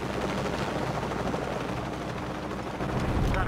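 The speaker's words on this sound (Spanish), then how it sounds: "Oh, otro helicóptero, tío." A helicopter in the PS4 video game Shadow of the Tomb Raider churns with a loud, continuous rotor rumble, and rapid gunfire crackles alongside it throughout.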